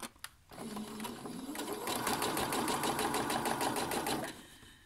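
A sewing machine stitches elastic shirring onto fabric for a top. After a couple of clicks, a steady, rapid mechanical whir runs close and clear for about three seconds and then winds down.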